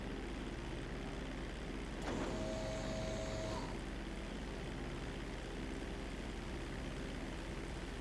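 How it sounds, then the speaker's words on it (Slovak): A stolen airplane flies in GTA V, and its engine makes a steady, continuous drone that fills the scene at an even level. A brief whoosh and a tone pass through partway. "Ale musíme letieť tak, aby sme sa nepotopili aj s lietadlom."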